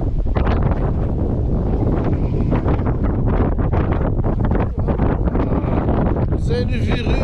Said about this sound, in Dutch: Dan krijgen we de wind.